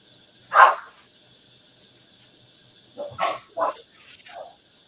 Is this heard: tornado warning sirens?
no